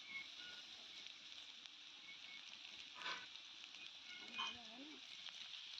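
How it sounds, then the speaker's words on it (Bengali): Potatoes frying in a pan during a village-style chicken curry cook, a steady faint sizzle running throughout with a couple of brief stirring clatters near the middle and end. "আলুগুলো এখানে এবার লাল লাল করে ভাজা হয়ে গেছে"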